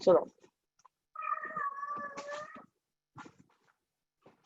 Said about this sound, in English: Sorry about my cat.